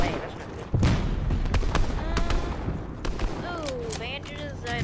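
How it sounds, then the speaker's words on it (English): Bursts of gunfire crack in a Fortnite match, a sharp hit followed by scattered shots and a whining sweep, with voices sounding faintly in the background. "Oh, he's shooting at someone."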